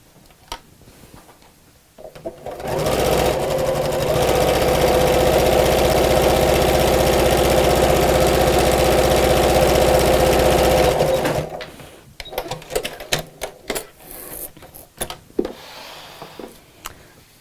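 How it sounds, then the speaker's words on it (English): A sewing machine runs steadily for about nine seconds stitching a seam over elastic, a loud even motor whir with rapid needle rattle, bracketed by quieter handling clicks and fabric rustle. "sew down this line, but over the top of the elastic here, go backwards and forwards a couple of times"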